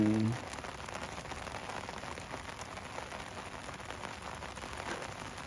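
Rain falls steadily on a riverbank, a dense, moderately quiet hiss of drops that continues unbroken after a brief tonal sound at the start.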